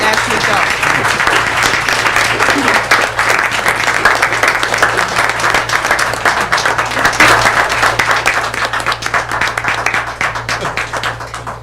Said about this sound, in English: let's give a warm round of applause for our Florence One Schools Teacher of the Year, Ms. Ashley Dawkins.